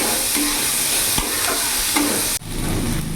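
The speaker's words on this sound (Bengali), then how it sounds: "পেঁয়াজটা একটু ভাজা ভাজা করে নেবো যাতে পেঁয়াজের কাঁচা ভাবটা চলে যায়" Chopped onion fries in a pan, a steady close sizzle broken by a few scraping stirs, the crackle dropping briefly near the end before picking back up.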